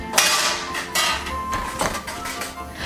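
Metal clatter of a springform baking pan being fitted together in a home kitchen, with several sharp clinks and knocks at irregular intervals over faint background noise.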